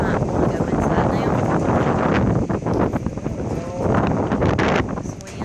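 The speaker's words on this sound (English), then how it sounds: "Pretty fast wind too, though. It's whipping." Strong, fast wind during a tornado in Ellisville, Mississippi, roaring and buffeting the microphone as a loud, steady rush, with a person talking over it.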